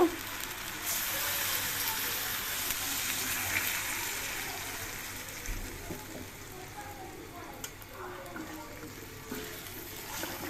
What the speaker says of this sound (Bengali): কচুগুলো কষানো হয়ে গেছে, এখন একটু পানি দিয়ে দেব